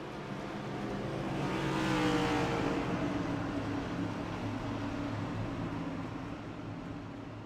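Race cars roaring together around a night oval at Charlotte in a Gen 7 cup-series racing video game, a dense, steady engine drone that swells as the field accelerates on the restart, loud and continuous with no talk.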